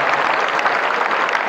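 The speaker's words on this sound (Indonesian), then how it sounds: "Tepuk tangan buat kakak kita." A short burst of applause rises from a large crowd of students at a motivational session, steady dense clapping with no pauses.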